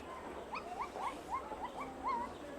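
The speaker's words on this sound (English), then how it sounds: "We are at the zoo." Zoo ambience with a series of faint, rising and falling animal calls repeating irregularly over a soft, low background hum.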